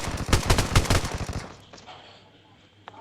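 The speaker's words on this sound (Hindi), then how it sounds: "ये देखो फायरिंग चालू हो गई।" Rapid bursts of gunfire in the battle game PUBG, a quick run of loud, sharp shots lasting about a second and a half, then dying away to quiet background with one faint late crack.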